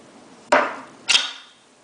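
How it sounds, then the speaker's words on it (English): Two sharp metallic clacks about half a second apart as the bolt of a Winchester Model 74 rifle is pushed back into place, each ringing briefly and close up, with no talk. "You can even put the bolt back in quickly."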